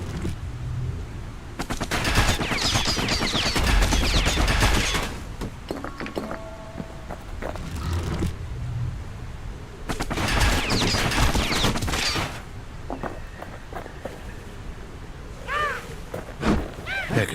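Pincushion enemies shooting in Bastion, with two long stretches of dense rattling fire separated by quieter moments holding thunks and mechanical clanks, and faint narration underneath.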